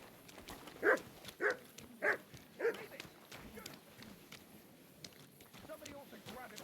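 Four loud dog barks ring out in a row in the video game Kingdom Come Deliverance 2, evenly spaced and close, then give way to soft footsteps and quiet background sounds.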